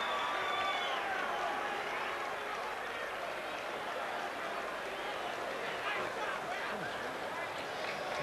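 Boxing arena crowd during a Tyson vs Thomas fight, a continuous roar of murmuring, shouting and scattered clapping, steady throughout with a commentator's voice talking over it.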